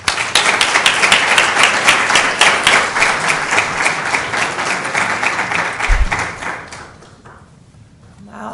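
A symposium audience gives a round of applause for a keynote speaker, the state Attorney General, with crisp, close, rhythmic clapping that stays loud before thinning out and fading near the end.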